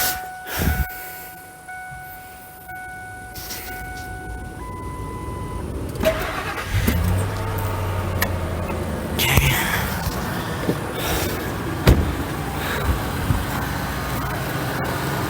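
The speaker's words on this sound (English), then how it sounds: "We're gonna start it up so you can hear it run first." A 1999 Lincoln Navigator with the 5.4 V8 and 140 miles on it cranks over, catches and settles into a steady idle up close, with a few clicks and knocks before it fires.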